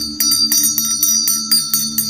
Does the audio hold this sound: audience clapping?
no